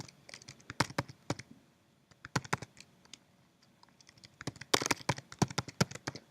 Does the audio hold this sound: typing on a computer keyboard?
yes